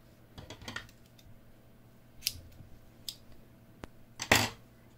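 Scissors snip excess yarn from a crocheted amigurumi flower, giving a few quiet, separate clicks and crisp snips close by, spaced out over a few seconds.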